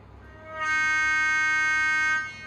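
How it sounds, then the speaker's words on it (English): A model locomotive's small, tinny electronic air horn through a tiny sugar-cube speaker blares a steady, sustained chord for about a second and a half, loud and close, over a faint hum. "So F2 is the air horn"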